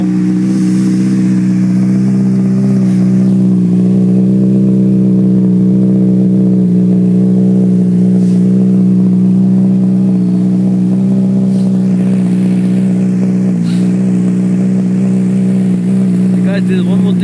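A Honda CBR motorcycle fitted with a Two Brothers aftermarket exhaust runs loud and close for the full stretch, a steady deep engine drone with slight swells in revs and no talking over it.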